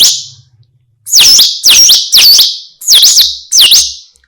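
A handheld sound-effect instrument from Ghana imitates a koel's call. After a brief faint rumble, five loud, piercing whistled calls ring out one after another, each swooping up and down in pitch, with short gaps and no voices.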